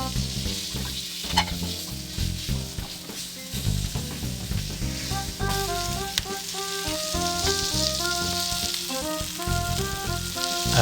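Leaf-wrapped prawn parcels (chingri paturi) sizzle steadily in a pan as they are turned, a continuous close frying hiss broken by occasional scraping and soft knocks, with faint music underneath.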